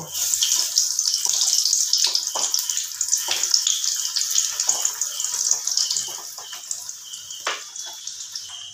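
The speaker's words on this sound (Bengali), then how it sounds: "ছোট কড়াই, দুটো দুটো করেই ভাজছি বন্ধুরা।" Two pieces of bread snack fry at a time in oil in a small wok, a close, hissing crackle with scattered sharp pops that gradually eases toward the end, and no voices.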